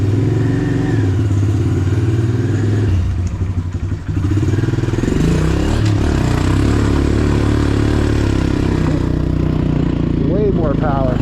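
A Honda CRF 125F pit bike's small engine drones loud and close while riding, its throttle pitch rising and falling with a brief dip midway and buffeting clatter underneath.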